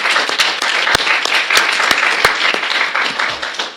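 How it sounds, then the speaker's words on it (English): A university event audience gives a dense, continuous round of applause, loud and close, with individual sharp claps popping out of the wash of hands throughout. "So let's give them a round of applause again"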